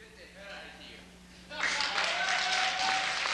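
An audience in a hall breaks into loud, steady clapping after a statement. The applause starts suddenly and holds for several seconds.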